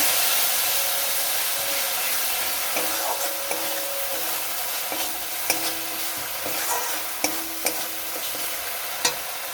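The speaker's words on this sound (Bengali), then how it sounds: "জল দিয়ে একটু নাড়াচাড়া করে নেব" Food being stirred in a pan after water goes in, with a soft sizzling hiss underneath and scattered sharp clicks of a utensil scraping and tapping against the pan, close by and fairly quiet.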